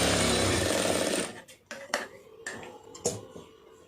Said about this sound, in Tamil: இப்போ இதுக்கு எக்ஸ்ட்ரா ஒரு தையல் போட்டுக்கலாம்.